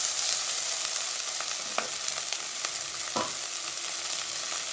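Tomatoes sautéing in a pan, a constant dense hiss of frying with a few sharp stirring scrapes and taps of the spoon, close and steady with no one talking.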